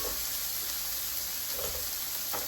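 Heaps of chopped garlic dropped into a hot pan sizzle with a steady, close frying hiss, with a couple of faint stirring scrapes and no talking.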